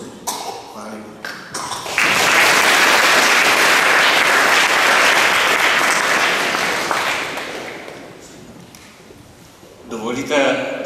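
Applause from a church audience after a concert of Marian hymns swells into a loud, sustained wash of many clapping hands, then slowly thins out. A few coughs and voices surround it at the start and end.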